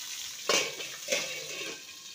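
Bitter gourd frying in a covered pan over low to medium heat, with a soft sizzle broken by two brief clatters of utensil or lid.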